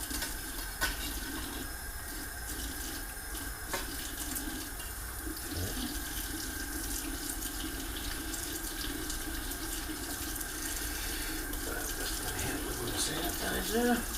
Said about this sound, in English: I also want to wash my knife.